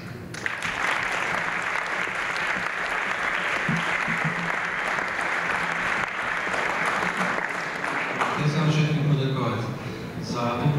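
Sustained audience applause at a school Christmas academy, a steady wash of many hands clapping in a hall for about ten seconds, with a few voices emerging near the end.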